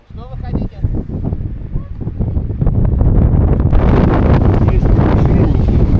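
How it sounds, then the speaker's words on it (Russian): Strong wind gusting across an open mountainside among old junipers, a broad roaring rush that builds and stays loud and steady through the second half, with people's voices faintly mixed in early on. "Спускаемся вниз туда от ветра, чтобы спрятаться."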